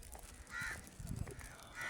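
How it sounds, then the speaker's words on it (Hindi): A black crow perched in a tree caws in two separate bursts, moderately near, over low background rumble and some faint murmuring. "काला कौवा बैठा हुआ"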